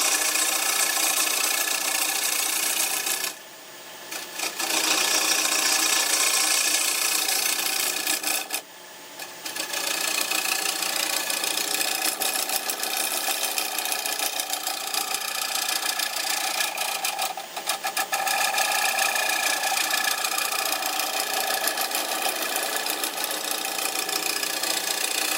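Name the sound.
wood lathe turning, gouge taking small cuts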